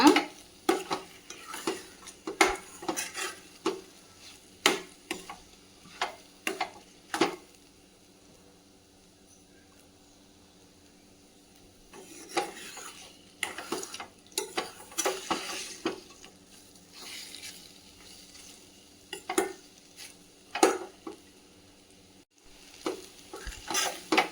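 Eggs in an egg masala are turned over and stirred in a pan with a spoon, giving repeated scraping clinks against the pan over a faint sizzle. The strokes come in bursts separated by quieter gaps, with no talking.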